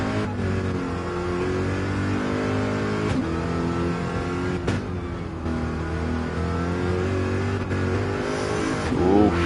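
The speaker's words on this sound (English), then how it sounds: "listen to that engine roar." A race car engine in Gran Turismo 4 on the Nordschleife roars steadily and loudly throughout, pitch rising and dropping with gear changes, heard from on board with no talking.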